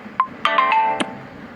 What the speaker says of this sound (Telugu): ఎలాంటి గ్రూప్లో అయినా సరే నేనున్న గ్రూప్లో ఏమైనా నోటిఫికేషన్ వస్తే ఇలా సౌండ్ వస్తుంది.